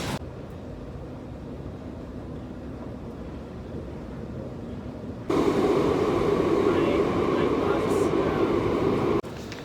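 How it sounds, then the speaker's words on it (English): A Paris metro train rumbles along the track in a steady, loud roar that suddenly swells louder partway through as the ride intensifies, then drops back near the end. "The Paris metro so far has been extremely efficient."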